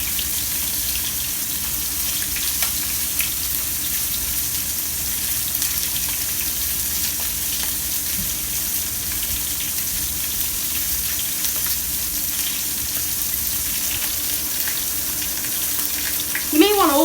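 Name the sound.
steak searing and sizzling in a pan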